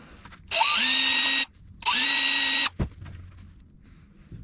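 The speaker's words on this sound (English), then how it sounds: "I guess we'll try to drill them out." A power drill runs in two bursts of about a second each, its motor whining up to speed as it bores out screws for a keyhole slot repair, followed by a sharp clunk and quiet handling sounds.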